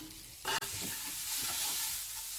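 Steady sizzling of jackfruit seed masala frying in a pan, with a spoon scraping and stirring through it near the start.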